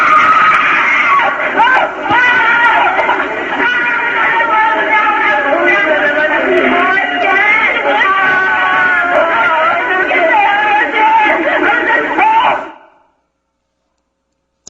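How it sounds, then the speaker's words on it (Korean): A loud recording of many people screaming and wailing in anguish, with dense overlapping cries held steadily for about twelve seconds before cutting off abruptly into silence. "그 몇 시간 동안 울고 또 울면서 질렀던 그 비명의 소리인데요"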